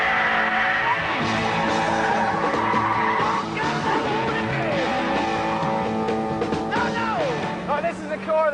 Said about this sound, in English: You can just gun it through the gears, savouring that noise.